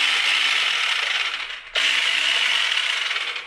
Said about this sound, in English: So if you got an 18V Ryobi, clicks right on that.